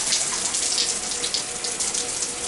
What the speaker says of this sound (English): Turn on the shower, just the hot water.